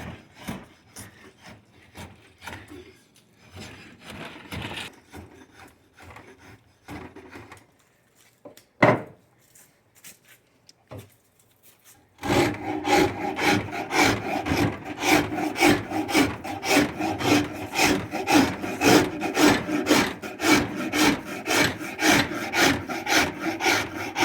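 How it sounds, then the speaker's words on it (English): A farrier's rasp, rough side, hogs wood off a limb blank in fast, rhythmic strokes, loud and close; the first half holds quieter scattered handling and scraping before the steady rasping begins. "So I'm using the rough side of the farrier's rasp. This will really hog a lot of wood off"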